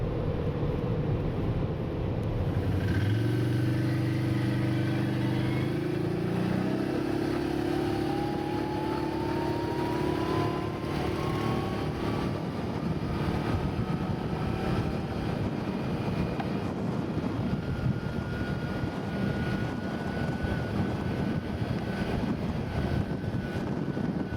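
An ATV engine drones steadily while riding forest trails around Wawa, its pitch climbing and shifting with gear changes early on, over constant rumble and wind buffeting at the microphone, with no talk.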